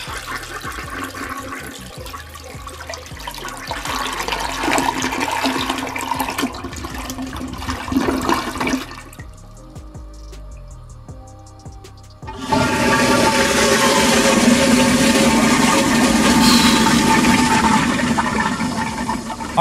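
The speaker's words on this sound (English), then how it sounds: "Toilet flush." Toilet flush heard alone at close range: a loud rushing swirl of water, a brief quieter lull, then a second strong surge of water filling and draining the bowl.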